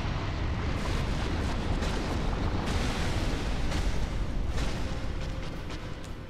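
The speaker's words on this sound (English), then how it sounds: "she went for the explosion" The witch Quelaag's explosion attack in the Dark Souls video game, a sustained loud rumbling blast with roaring bursts that fades slightly toward the end, with no talk over it.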